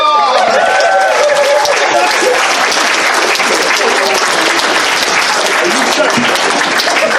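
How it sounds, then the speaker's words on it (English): An audience at a furry convention charity stage event breaks into loud, sustained applause mixed with crowd cheering, continuous and close throughout. "Give him a round of applause!"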